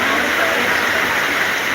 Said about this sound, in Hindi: हमारे यहाँ बहुत जोर बारिश हो रही है